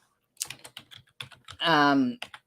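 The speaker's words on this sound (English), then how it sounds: "I'm typing them in the list that you have to do" Names typed on a computer keyboard, a run of quick separate key clicks with a short voice-like tone in the middle, close and fairly loud.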